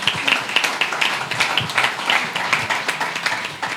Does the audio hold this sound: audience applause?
yes